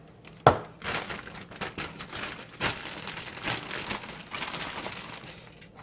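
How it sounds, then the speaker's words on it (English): About a cup of cornstarch is dumped into a Ziploc plastic bag for a chicken wing batter, giving a sharp initial crinkle followed by soft, continuous rustling and crumpling of the bag, close and fairly quiet. "Dump it in a Ziploc bag"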